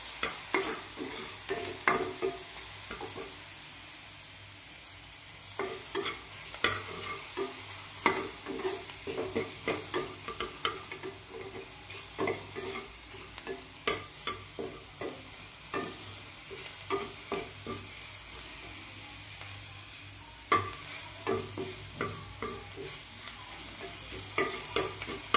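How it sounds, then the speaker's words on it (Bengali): Onion paste fries in butter with green chillies in a wok, a soft steady sizzle broken by repeated scraping stirs of a spoon against the metal, close and unbroken by talk. "পেঁয়াজটা একটু ভাজা করে নেব।"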